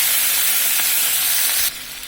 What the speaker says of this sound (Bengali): এখন আমরা এর মধ্যে কিছু পরিমাণ পানি দিয়ে দিব মশলা